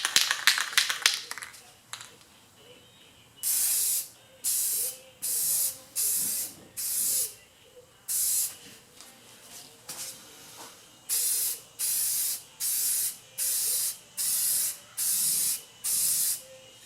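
Second coat of clear coat sprayed from an aerosol can onto a restored headlight: a quick series of loud, close hissing bursts, about a dozen evenly spaced passes with brief pauses between, after some faint rustling.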